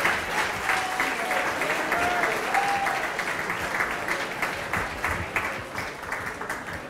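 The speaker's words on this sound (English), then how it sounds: "how about one more big round of applause for Larry, Wayne, and Diana" Wedding reception guests applaud after a toast, a steady round of clapping from the crowd that stays even and moderately loud for several seconds, with faint voices underneath.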